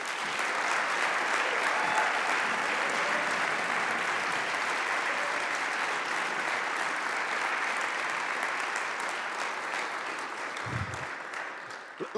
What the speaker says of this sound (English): give anyone that's ever been on my staff and athletes a round of applause